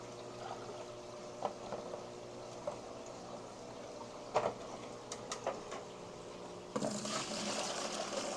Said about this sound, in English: I'm gonna grab some of this water, put it in my bucket.